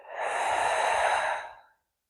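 A long, steady exhalation through the mouth during a slow-flow yoga breathing exercise, a soft airy rush lasting about a second and a half, close and alone with no talk.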